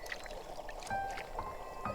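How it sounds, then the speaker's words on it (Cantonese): A small water chestnut harvesting boat pushes through a pond, soft close splashing and lapping of water with light knocks and ripples, faint and uneven over a quiet background. "小小嘅菱角船破水而行"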